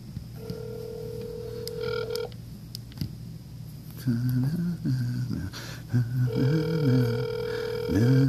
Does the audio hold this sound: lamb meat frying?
no